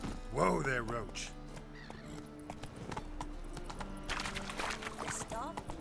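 Roach, Geralt's horse in The Witcher 3: Wild Hunt, whinnies loudly at the start, then hooves clop in a steady trot close by, over game music with voices in the background.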